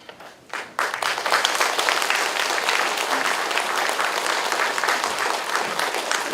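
A church congregation breaks into loud, dense applause to welcome a guest elder speaking at a festival service, starting after a brief quiet lead-in and holding steady to the end.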